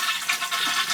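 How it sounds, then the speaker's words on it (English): A toilet flushes nearby, with a brief, rushing surge of swirling water that holds steady throughout the short moment. "let's see if it flushes"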